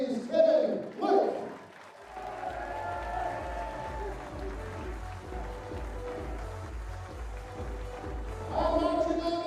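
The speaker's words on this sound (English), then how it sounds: "A massive round of applause as he leaves the stage for the USA's Kevin Luke." Audience at the Lakeside World Darts Championship applauds a player leaving the stage, a short burst of clapping and cheering followed by a steady low thumping beat under a commentator's voice, with the crowd swelling again at the end.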